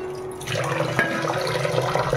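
Gobindobhog rice with mung and masoor lentils being washed in water, a steady run of splashing and pouring that starts after a brief quiet moment and continues without speech.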